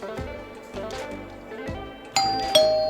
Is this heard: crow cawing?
no